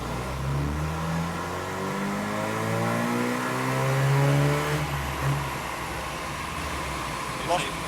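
A Mazda RX7 rotary engine runs at full throttle on a dyno, its loud, rising rev sweep building for about five seconds before dropping back, with brief talk in the background.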